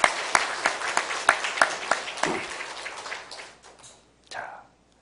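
A church congregation claps together in a burst of sharp, evenly spaced handclaps that fades out after about three seconds, followed by a short murmur of voices.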